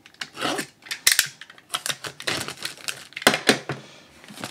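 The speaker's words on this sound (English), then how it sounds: "All right, so cut this thing open here." Plastic packaging around a DJI Osmo Mobile 3 gimbal is cut and torn open, giving a series of close, sharp snips, crinkles and rasping scrapes in irregular bursts with short pauses.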